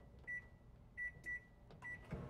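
A microwave oven heats butter in a home kitchen, its steady hum broken by several short, clear electronic beeps from the keypad, ending with a soft clunk of the door.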